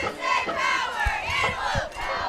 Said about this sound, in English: A little more enthusiasm from the small crowd from Post.